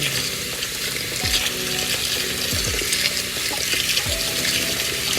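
Hot water running steadily from a tap into a sink while a PacMan frog enclosure is being set up, a constant broadband splashing with a few low gurgles and knocks, close and alone with no talk.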